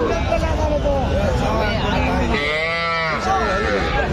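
A 2.5-month-old bull calf lets out a drawn-out moo amid a noisy cattle market crowd, with people chattering all around.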